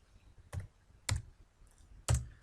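Three soft, separate keystrokes on a computer keyboard, evenly spaced about half a second apart, tapped during data entry in stocktake software, faint and isolated in a quiet room.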